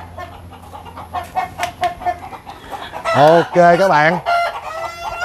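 Several roosters kept together on a farm in Tay Ninh cluck and chirp near the recorder, then one lets out a loud, full crow midway, with more clucking and a brief spoken phrase around it.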